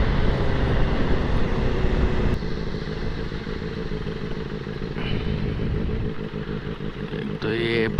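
Superbike engine cruising in fifth gear on a highway, a steady loud drone with wind rush throughout, recorded from the rider's position, with someone talking over it.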